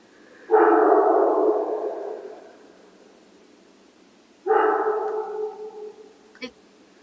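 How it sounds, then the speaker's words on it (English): Two separate bursts of a dog barking or growling, each lasting over a second, slightly distant, with a short sharp click near the end. "And you'll hear that growling get further and further away as Boots keeps barking at him."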